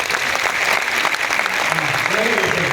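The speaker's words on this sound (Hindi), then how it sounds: "एक बार जितने भी लोग ऊपर आ रहे हैं इनके लिए तालियां बजाओ।" An indoor audience claps steadily and loudly for people coming up onto a stage, a dense continuous applause with some voices audible underneath.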